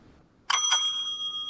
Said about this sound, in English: The timekeeper will ring the bell once at the second minute as a last-minute warning and will ring the bell twice